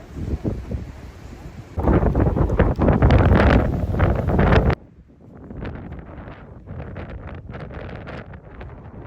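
Strong gusts of wind on the Greek coast in February roar and buffet the microphone, swelling loudly for several seconds before dropping to a lower rushing blow.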